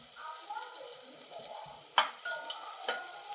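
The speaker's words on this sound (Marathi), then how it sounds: "आता याच्यामध्ये लसूण टाकून घ्यायचं आहे पहिल्यांदा मिरची टाकून घ्यायची" Garlic and green chilies hit hot oil in a pan for pav bhaji, giving a soft, steady sizzle with light stirring, a sharp utensil clack near the middle and another later.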